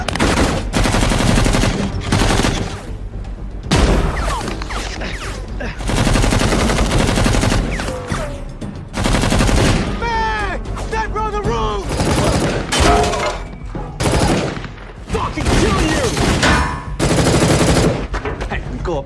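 Loud rapid gunfire rips through a film shootout as a gang's henchmen ambush a group, bursts of automatic fire and shots alternating with brief lulls across the scene.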